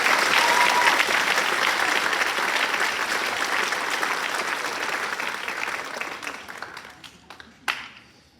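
A crowd applauds loudly, the clapping gradually thinning and fading out, with a few scattered claps near the end.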